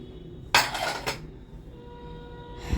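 Keema aloo is scooped out of a pan, with a short burst of metallic scraping and clinking from a utensil against the pan, then a quiet stretch of low kitchen hum and a faint knock at the end.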